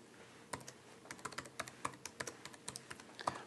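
A database username is typed on a computer keyboard, with quick, close, fairly quiet key clicks coming in an irregular run of a dozen or more taps at a steady pace.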